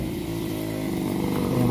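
A motorcycle engine runs steadily near a campsite parking area, a continuous low, buzzing drone that holds level and swells slightly louder toward the end, with no talking.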